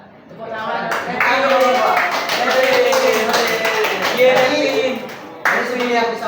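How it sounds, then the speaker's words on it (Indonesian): Students in a classroom clap together in a steady burst lasting several seconds, with voices calling out over the clapping. "tepuk tangan."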